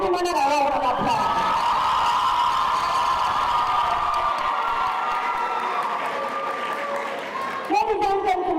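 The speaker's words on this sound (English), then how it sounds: "If you know them all, give them another round of applause." Audience at a high school valedictory service breaks into sustained applause with cheering, loud and dense throughout, tapering slightly near the end.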